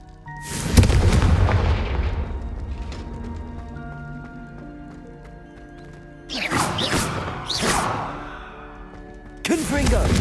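Confringo fire spell blasts in Hogwarts Legacy during an arena battle: a loud booming burst followed by ringing decay, then two more explosive hits later, with a shouted voice near them.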